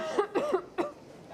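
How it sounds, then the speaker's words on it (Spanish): A few short, sharp coughs in quick succession, close to the microphone, followed by quiet. "Con tos."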